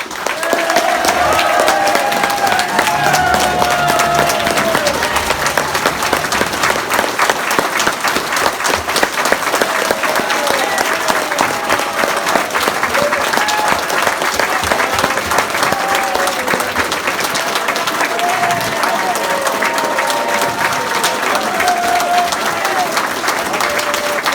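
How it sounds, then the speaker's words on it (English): A large crowd at a memorial lecture applauds continuously for Jeremy Corbyn, dense clapping sustained at a steady loudness throughout with occasional voices mixed in. "give a round of applause please for Jeremy Corbyn MP."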